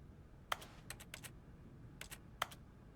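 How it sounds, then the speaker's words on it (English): In The Stanley Parable: Ultra Deluxe, quiet keyboard-like clicking arrives in scattered bursts of quick taps with brief pauses between them, faint and close against a low background hum. "I just realized the clicking sounds like a keyboard."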